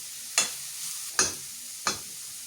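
Grated carrot frying in a pan is stirred in three sharp, close scraping strokes, each followed by a soft sizzle, with no voices.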